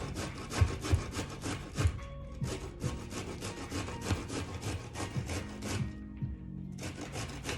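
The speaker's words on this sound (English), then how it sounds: "So I have my grater" Head of cauliflower rubbed against a kitchen grater: quiet, steady rasping strokes repeating about twice a second, close by and alone, with a short pause near the end.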